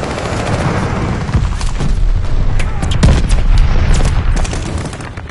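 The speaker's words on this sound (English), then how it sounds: "Enemy glide bomb incoming." Glide bomb explosions in Call of Duty: Vanguard, a loud continuous barrage of booms and crackling impacts with dense rumbling low end and repeated sharp bursts, close and intense throughout.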